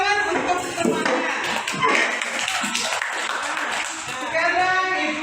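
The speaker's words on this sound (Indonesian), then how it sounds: "Sekarang tepuk tangan untuk temannya." Children in a fourth-grade classroom give a classmate a round of applause, with scattered, uneven hand claps and taps and children's voices mixed in throughout.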